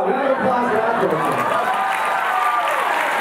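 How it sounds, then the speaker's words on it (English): A panel-discussion audience at a film festival applauds in a continuous, rustling spread of clapping and crowd noise, with voices talking over it. "Round of applause for that person"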